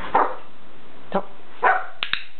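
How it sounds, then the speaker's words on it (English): A dog lets out a few short, separate barks and yips at moderate distance, spaced irregularly with brief quiet gaps, followed by two sharp clicks near the end. "And a dog."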